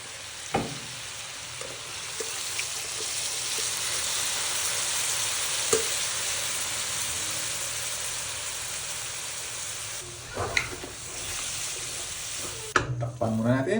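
Shrimp broth hitting pork and vegetables frying in a pan, a sustained loud hiss and sizzle with occasional clinks and knocks of a utensil, close by, ending in louder clattering and stirring.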